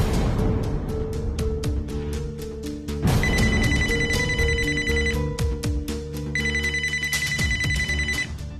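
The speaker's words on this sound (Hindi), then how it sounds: "ये फोन किसका बज रहा है? किसका फोन है ये?" Inside an office, a telephone rings with a looping electronic melody of bright repeated tones that pauses briefly and then starts again. It sounds fairly loud and close, with no voices over it.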